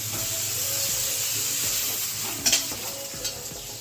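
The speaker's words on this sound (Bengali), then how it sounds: "দেখুন এই যে ভাজা হয়ে গেছে, এবারে এটা নামাবো" Mixed vegetables for shukto fry in an oily, blackened wok, a steady close sizzle with spatula scrapes and a sharp hiss and clatter near the end.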